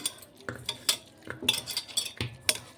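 Pieces of mutton are mixed with chili powder and salt for biryani, giving soft, irregular clinks and scrapes of a utensil against a dish, close and fairly quiet, with no talking.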